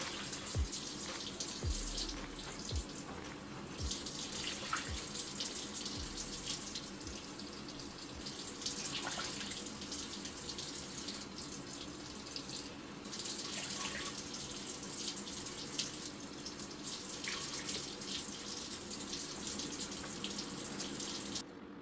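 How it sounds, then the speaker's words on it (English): Water from a tap pours in a steady, continuous stream into a pot of black beans, a broad hiss with a splashing character that lasts throughout, with no talk. "Let's add 6 cups of water, enough to cover the beans."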